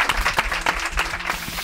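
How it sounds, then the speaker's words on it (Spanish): A studio audience breaks into brief applause for Martín, a dense, rhythmic patter of clapping hands heard close and fairly loud for under two seconds. "¡Un aplauso para Martín arriba!"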